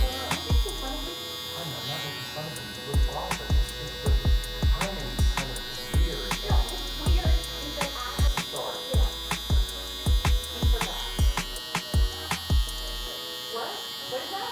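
A Stylecraft Flex electric hair trimmer buzzes steadily while lining up a man's beard, with a constant close whine under repeated short clicks and taps of the blade against the face.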